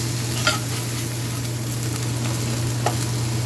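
Salisbury steak meat browning in a pan gives a steady, close sizzle and frying hiss, with a couple of soft utensil scrapes as it is stirred and no talking.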